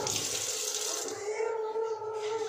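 Running water from a tap while hands are washed, a steady close splashing and hissing stream that shifts slightly in tone as the flow is disturbed.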